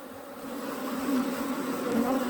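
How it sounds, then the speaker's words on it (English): A swarm of honeybees being caught outdoors at a bee academy fills the air with a continuous, dense buzzing hum that stays steady and close throughout. "Now the bees are singing all around us."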